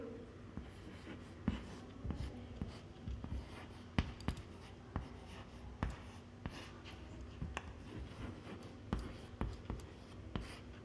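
Chalk or marker writing a sentence on a board during a Hindi grammar class: steady scratchy strokes with sharp taps at irregular intervals, close and fairly quiet, with no talking.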